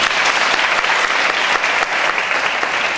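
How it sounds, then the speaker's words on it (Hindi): An audience claps steadily to welcome a speaker at a moral-education talk in a hall, a dense, loud, continuous applause with no voices over it. "आप एक बार इनका तालियों से स्वागत"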